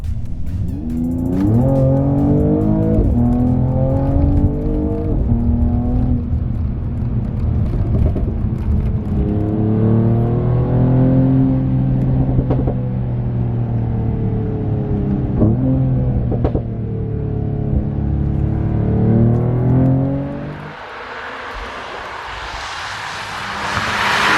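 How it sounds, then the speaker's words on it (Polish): Mercedes-AMG E53 exhaust heard from inside the car while accelerating, a loud engine drone rising in pitch through several upshifts over about twenty seconds before easing off to a quieter cruise with wind noise. "w innych trybach jednak wolę słuchać wydechu"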